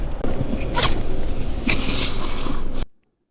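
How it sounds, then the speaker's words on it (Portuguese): A zipper on a handmade bag is pulled shut in a few quick, close rasping strokes, crisp and loud, before the sound cuts off to silence. "a gente fecha o zíper, eu fecho"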